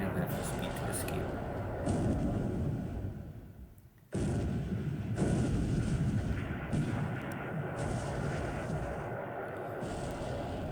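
Naval shelling in the War in the Pacific strategy game, a dense rumbling barrage of booming shell fire and blasts that keeps rolling on, with one abrupt drop before the roar resumes.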